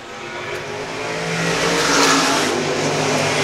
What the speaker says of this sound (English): he leads the way here in heat race number 2